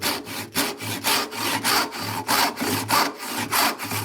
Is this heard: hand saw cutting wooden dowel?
yes